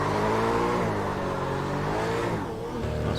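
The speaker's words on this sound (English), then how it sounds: "nice big burnout." A race car in a racing video game does a big burnout with a loud, sustained engine drone and rising harmonic whine that dips briefly near the end before roaring again, with no voices.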